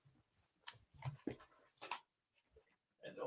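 A pet dog shut in a room whimpers in short, faint whines and soft pants separated by pauses, with a louder whine near the end.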